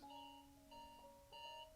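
A faint electronic alarm clock goes off in the game Finding Paradise, repeating its short melodic beep pattern three times in quick succession with no talking.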